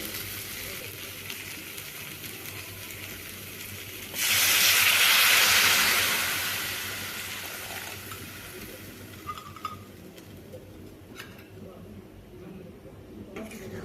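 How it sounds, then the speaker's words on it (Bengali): Water poured into a hot pan of fried spice masala bursts into a loud hissing sizzle that swells for a couple of seconds, then fades into a softer simmer with a few small clinks. "কষানো হয়ে গেছে এবার আমি জল অ্যাড করবো"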